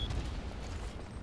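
Artillery fire in the World War I shooter Verdun, a broad low rumble and muffled blasts close by, steady and heavy for the whole moment with no voices over it.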